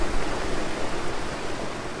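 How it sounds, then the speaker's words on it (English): A rushing river swollen with snowmelt pours out of the Rocky Mountains, giving a loud, steady, broadband roar of water with no pauses and no voices. "Now, billions of gallons gush out of the Rockies."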